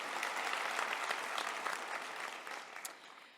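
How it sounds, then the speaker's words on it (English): A large audience at a McMaster University graduation convocation applauds loudly, the dense clapping holding steady and then beginning to fade toward the end. "I think we should give another round of applause to our honorary doctorates"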